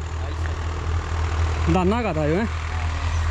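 A Swaraj 855 FE tractor engine runs steadily at idle in a rice field, a constant low drone, while someone speaks briefly over it partway through.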